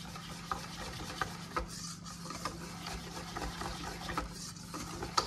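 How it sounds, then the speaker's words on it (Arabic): Cupcake batter being stirred and mixed by hand in a bowl, a quiet, steady rubbing and scraping with small soft knocks, no voices over it. "غادي نبدا نحرك او غادي نخلط"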